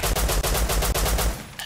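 In the game Rust, gunfire rattles out as a fast, loud automatic burst of evenly spaced shots, close and alone before cutting off.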